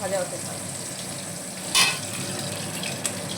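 Pieces of bhola fish frying in a pan, a steady faint sizzle with a brief louder crackle burst midway, no talking.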